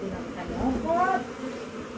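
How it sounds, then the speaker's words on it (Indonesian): A honey bee colony freshly moved out of a cave hums with a steady close buzz, several individual bees droning in and out over the continuous swarm noise. "alhamdulillah udah beres pemindahan koloni lebah madunya."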